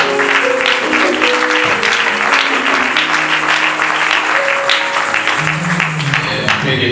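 A church congregation applauds and acclaims loudly and continuously, dense clapping mixed with cheering voices and music throughout.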